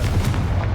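Confringo blasting spell in Hogwarts Legacy, a single short, loud booming burst heard up close with no talk over it.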